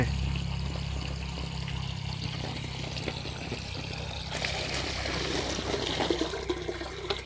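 Water from a mains tap flows and pours continuously, a steady rushing stream that grows brighter and splashier toward the end, with no talking.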